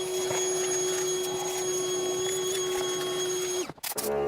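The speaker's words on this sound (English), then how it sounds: "We'll vacuum it out really well." A shop vacuum runs with a steady high whine while cleaning out the engine area of a 2004-2010 Ford F150, holding constant until it cuts off abruptly near the end, followed by brief clatter.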